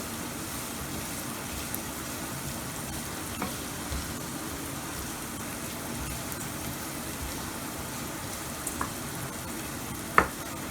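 Soft, steady dry sizzling and light crackling from chana dal roasting in a hot pan, with a few sharp clicks near the end.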